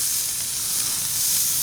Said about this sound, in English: I'm going to put them just directly over the coals